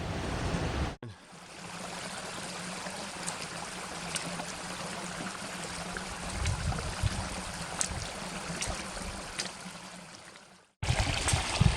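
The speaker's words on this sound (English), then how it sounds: "It's like we're hiking up a stream." Water rushing along a rocky hiking trail in the Indian Peaks Wilderness on the way to Jasper Lake, a steady close gurgling wash with splashy bursts and low rumble, cut briefly at start and end.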